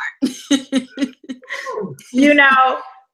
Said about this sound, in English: I was really coughing, and then it just got sharp.